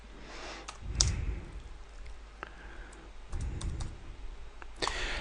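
Rapid clicks of a computer keyboard as a PowerShell command is typed, irregular keystrokes and small bursts spread across several seconds, close and fairly quiet with no voice.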